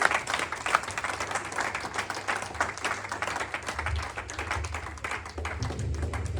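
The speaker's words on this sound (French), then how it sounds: "On acclame le Seigneur. Wir klatschen für den Herrn." A church congregation at a Sunday service claps together in praise, a dense, continuous wash of applause filling the room.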